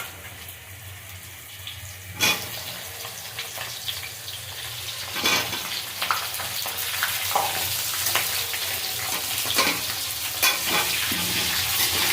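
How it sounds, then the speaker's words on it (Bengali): Potatoes frying in oil with five-spice and dried red chillies, a steady close sizzle broken by several sharp scrapes and clatters of stirring. "আলুগুলো আমি ভেজে নেব"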